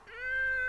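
A single short, rising cat meow, close and moderately loud, with a clear tonal quality and nothing else around it.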